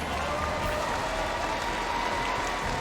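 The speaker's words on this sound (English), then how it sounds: "give ONIC a big round of applause" Audience applause at an esports grand final knockout match, a steady wash of clapping and crowd noise from a large arena throughout, with faint voices mixed in.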